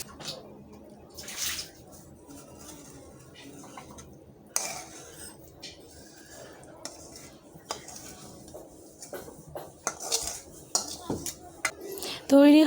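A cooking pot of Malabar spinach leaf bhorta cooked in oil is lifted off a home stove, giving clattering metal clanks and scrapes of pot and utensils, with a louder knock near the end.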